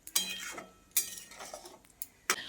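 A spoon stirs potato and soybean curry in a metal pan. Crisp scraping clinks come in uneven bursts about every second, close and fairly quiet.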